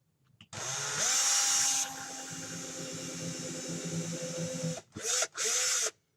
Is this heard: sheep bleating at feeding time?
no